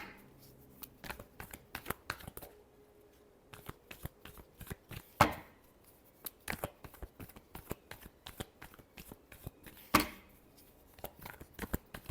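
Tarot cards are shuffled by hand, close and quiet, in repeated bursts of crisp riffling flicks and soft slaps, with a couple of sharper taps as the deck is squared.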